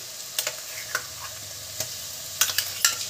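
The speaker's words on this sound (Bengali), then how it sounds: "আমরা আদা রসুনের পেস্টটা দিয়ে দেবো" Ginger garlic paste frying with browned onions in oil for chicken kosha, a quiet steady sizzle broken by several sharp spoon clinks and scrapes against the pan.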